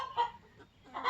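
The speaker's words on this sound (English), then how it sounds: "I got chickens everywhere right now. They've invaded my space" Chickens cluck near a coop, two short bursts of throaty clucking close by with a quiet gap between them.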